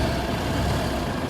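A 1927 Austin 7 Chummy Tourer's small engine running steadily close by, a constant low rumble that stays loud and even throughout.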